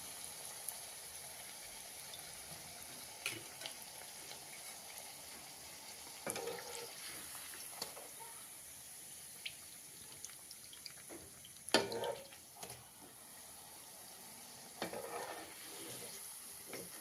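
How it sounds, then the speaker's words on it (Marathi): Fenugreek puris deep-frying in oil, a low constant sizzle with scattered bursts of bubbling and a few clinks and scrapes of a utensil, fairly quiet throughout. "दोन्ही बाजूनी चांगली बाजू तळून घ्यायची आपण त्याला"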